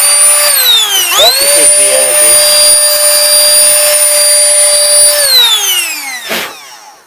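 A Canless Air O2 Hurricane electric air duster blows with a loud, high whine. The pitch climbs as it spins up, holds steady, then winds down, with a short blast near the end. A person speaks briefly.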